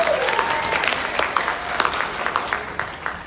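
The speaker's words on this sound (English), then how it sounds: "So can we get a round of applause for that?" Audience applause at a choir pops concert, a steady wash of many hands clapping at moderate volume with a few sharper individual claps standing out, continuing for a few seconds.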